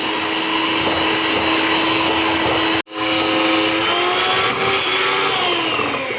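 An electric hand mixer whips eggs and sugar into a foam in a mixing bowl for a raspberry baba, making a steady, loud motor whine that is cut off briefly once partway through and then runs again.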